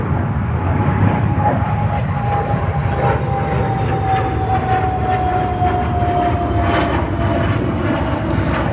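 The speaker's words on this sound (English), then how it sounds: "The 321 Neo comes in from Oslo in Norway." An Airbus A321neo arriving from Oslo roars steadily overhead at an airport, a loud continuous engine drone with a slowly falling whine running through it.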